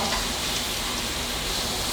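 Steady, dense sizzling of pork frying on a hot pot grill pan, a continuous crackling hiss with no voices.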